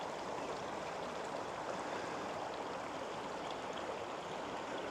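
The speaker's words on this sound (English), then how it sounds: "We've got the River Sence still going by down there." The River Sence in Hugglescote flows past steadily below, a faint, continuous broadband rush of moving water with no voices or other sounds over it.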